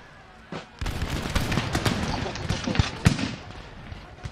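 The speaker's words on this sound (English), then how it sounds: "Oh shit, artillery." Artillery fire in the video game Empire: Total War with DarthMod, a rapid barrage of sharp cracks and thumping booms mixed with crackling volleys, with someone talking over it.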